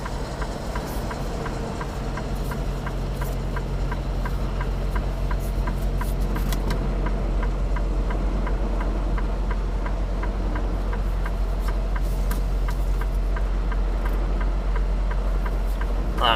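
A semi truck tractor idles while positioning a trailer near a wall, a steady low diesel drone with faint regular ticking throughout, close and unchanging, without speech.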